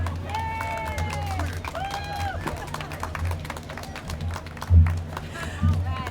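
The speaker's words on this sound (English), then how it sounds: "Would you please give a round of applause to Nikki Kaiser?" Scattered applause and cheering from a crowd at an outdoor rally at the state capitol protesting the reopening of Rocky Flats, moderately distant clapping mixed with voices and a few louder bursts.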